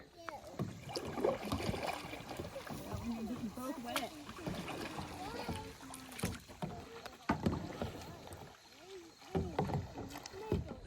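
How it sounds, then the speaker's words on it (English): Kayak hulls scrape and knock as the boats slide onto the water, with splashes and paddle bumps while several people talk nearby. "we're gonna get these heavy boats on the water"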